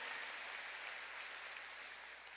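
Steady wash of applause from a church congregation during a Korean worship service, continuous and moderately loud throughout without pauses or voices.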